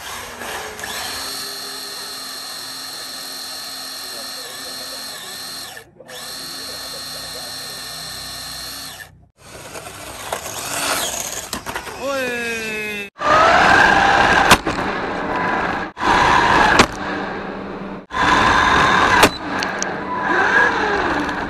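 Budget RC car around 800,000 rupiah driving and drifting, its electric motor whining and revving in bursts with sharp tire scrabbles, loud and close, while background music or a voice runs underneath in parts.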